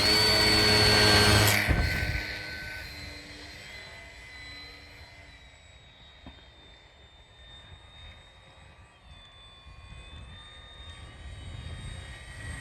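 Su 26 model airplane engine in flight, a loud close buzz for the first two seconds that fades to a thin, distant whine drifting in pitch as the plane moves away and maneuvers.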